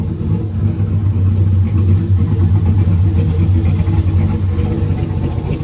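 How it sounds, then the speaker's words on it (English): Turbocharged NASCAR race car engine idling steadily after a long run, a loud, close, continuous low rumble with a constant throb and no revving. "it's been idling probably like 20-30 minutes"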